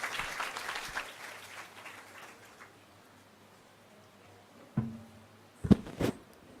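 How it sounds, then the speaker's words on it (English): A conference audience applauds a speaker with soft, diffuse clapping that fades away over the first couple of seconds, followed by quiet room tone and a few sharp knocks near the end. "join together with a big round of applause for Dr. Kalpana Venugopal ma'am to the dais"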